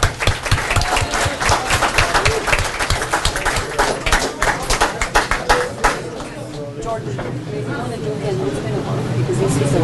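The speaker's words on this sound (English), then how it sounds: "Big round of applause." Applause and clapping from a family gathering of parents and kids, dense hand claps mixed with chatter and speech babble throughout, fairly loud and close.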